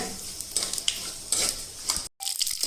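Mustard and fennel seeds fry in hot oil for a watermelon curry, a close crackling sizzle with scraping stirs, ending in a brief silence before the sizzling resumes.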